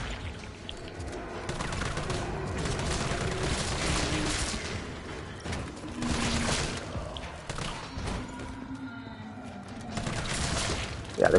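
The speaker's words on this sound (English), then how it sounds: "I just like to count the shots." Rapid bursts of gunfire from the video game Resident Evil 3 Nemesis fill the clip almost continuously, loud and dense, with brief lulls between volleys and no talking.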